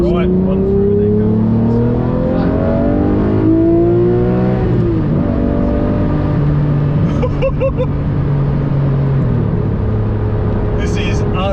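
A sports car engine on a race track winds up loudly through the gears, the pitch climbing and dropping at each shift before settling into a steady drone. The sound is heard from inside, with people talking over it.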